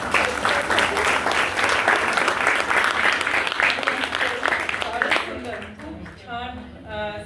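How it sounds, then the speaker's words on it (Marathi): Loud, dense applause from a lecture audience at an Ayurveda and Panchakarma talk, sustained for about five seconds before fading as a voice begins speaking. "जोरात टाळ्या."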